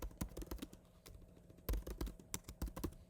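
Light, irregular tapping on a computer keyboard in short bursts with pauses, close and quiet, no voices.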